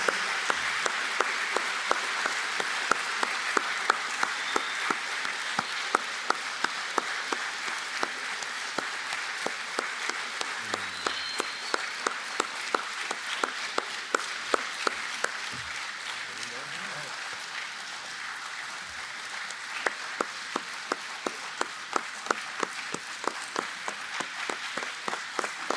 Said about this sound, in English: so continue those applause